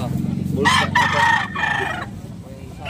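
A White Kelso gamefowl rooster, about 16 months old, crows loudly and close by in a single drawn-out call over steady low background noise at a gamefowl farm in Carcar, Cebu.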